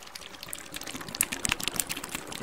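Dry ice bubbling vigorously in water inside a container, heard close as a busy, crackling fizz with rapid irregular pops and gurgles, fairly quiet throughout.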